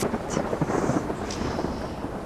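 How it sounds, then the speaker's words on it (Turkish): Steady, heavy rain hisses continuously with a low rumbling underneath. "Bak yağmur yağıyor."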